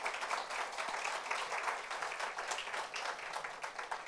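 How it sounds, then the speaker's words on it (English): A seated audience gives a steady, dense round of applause at a St Patrick's Parade Committee art exhibit gathering. The clapping is sustained, close and even for about four seconds, with no talking. "Let's give her a nice round of applause."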